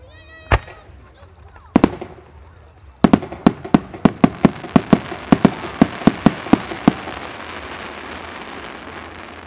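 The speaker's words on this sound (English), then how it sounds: "they're going to make it an appearance in the main show as well later on with nice salute pistols, and they're really quite pokey" Salute pistols at a European firework festival demonstration fire as a burst of sharp, loud bangs, a few isolated reports at first, then a rapid, evenly spaced string of about a dozen cracks over a rising crackling wash.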